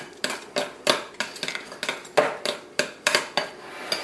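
A utensil repeatedly scrapes and knocks against a bowl as mini M&Ms are stirred into ice cream, giving irregular, close clinks and scraping strokes roughly every third of a second, with no talk.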